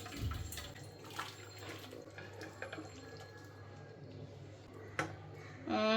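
Hilsa fish curry with winter vegetables poured slowly from a pot into a bowl, a gentle, close liquid trickle and splashing with a faint clink of metal, growing fuller toward the end, with no talking.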